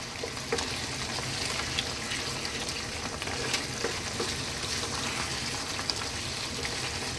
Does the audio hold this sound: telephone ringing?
no